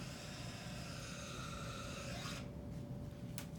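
A spinning diabolo grinds along its stick with a continuous raspy, rubbing whir and a steady faint hum, quiet and close, changing tone near the end.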